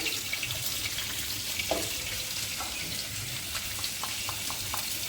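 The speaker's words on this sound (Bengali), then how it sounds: "তেলের ওপরে আলুগুলো দিয়ে দেবো দিয়ে আলুগুলো হালকা একটু ভেজে নেব" Potatoes fry in hot oil with turmeric for an egg curry, giving a continuous close sizzle, while occasional light knocks from stirring break through the hiss.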